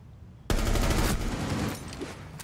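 Rapid automatic gunfire in a competitive shooter, a sharp loud burst that opens abruptly and sustains as a dense, close volley for about two seconds before tapering.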